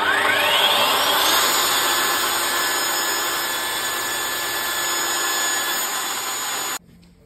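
Mafell Erika 85 saw cutting a rebate in wood, a loud close whining power-saw roar sustained for several seconds before cutting off abruptly, with no talk.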